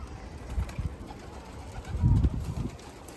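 Mardin pigeons give soft low coos in a few short bursts, close and faint against a quiet background.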